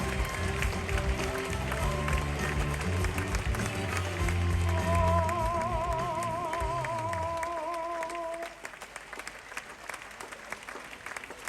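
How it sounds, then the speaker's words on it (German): A cruise ship audience applauds to welcome the general manager, steady dense clapping that holds for several seconds under stage music, then thins out toward the end. "mit einem tosenden Applaus bitte begrüßen Sie unseren General Manager Fabian Leonhardt"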